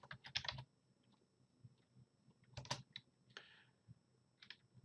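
Quiet bursts of typing on a computer keyboard: quick clusters of key clicks at the start and middle, separated by near-silent pauses, with a few lighter taps near the end.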